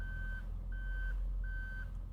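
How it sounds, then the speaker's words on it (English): A paper-collection trash truck backs up with three evenly spaced, steady reversing beeps over a low rumbling engine, heard at a moderate distance and fairly faint. "Do you hear the beeping?"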